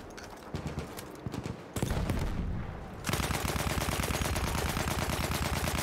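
Fast hoofbeats of a galloping horse in Battlefield 1 multiplayer drum under heavy, rapid gunfire, the chaotic clatter growing denser and louder partway through.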